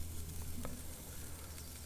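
Beef short ribs sizzling on a grill, a steady close hiss of fat and searing meat with faint crackles, heard alone without talk.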